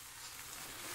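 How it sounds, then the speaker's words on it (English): Thick cut bacon on a griddle makes a faint, even, crackling sizzle for under a second. "Nice sizzle."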